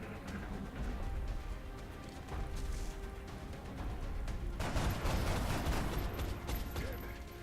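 Gunfire from a weapon in the XCOM strategy game, a dense rattling burst of shots under a continuous noisy game mix, growing louder and harsher toward the end.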